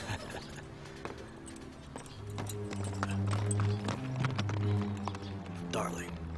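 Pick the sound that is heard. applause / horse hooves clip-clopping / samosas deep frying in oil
horse hooves clip-clopping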